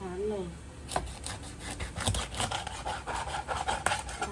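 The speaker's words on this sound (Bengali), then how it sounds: "ধার দিতে হবে বুঝছো" A knife blade is sharpened in quick, repeated rasping strokes, close and fairly loud, with a brief voice at the start.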